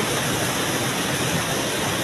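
Water rushing from a tank overflow fed by Baby Falls, a steady, dense, close pour of falling water with no pause.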